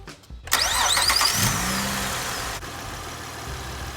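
A car engine started for a battery tester's startup test cranks briefly, catches with a quick rev, then settles into a steady idle, close and clear.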